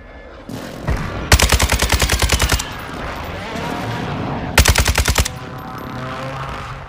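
Bursts of rapid gunfire from an air strike in Call of Duty Warzone: two loud, sharply rhythmic volleys of machine-gun fire separated by a rumbling lull, heard without talk.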